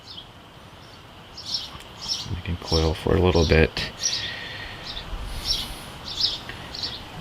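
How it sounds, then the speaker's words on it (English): Birds chirp repeatedly outside an open garage studio in hot weather, bright short tweets scattered throughout at moderate distance while a person speaks briefly in the middle. "Excuse the birds. I have my garage open"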